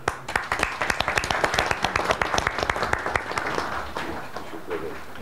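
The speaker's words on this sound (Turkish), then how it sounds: "Ve sizleri ben alkışlıyorum." Audience applause at a journalists' day press dinner, a dense burst of clapping that starts strong, holds steady, then thins and fades toward the end.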